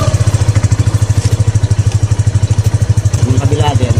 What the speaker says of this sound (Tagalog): Try natin start yung motor.